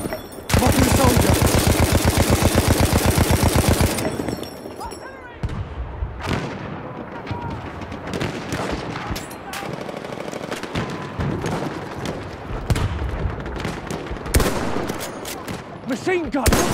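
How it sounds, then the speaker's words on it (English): Rapid machine gun bursts in the Battlefield 1 Conquest map Suez, a loud close hammering stream for several seconds, then scattered distant gunshots and explosions of battle with game voices shouting. "Machine gun! Outside!"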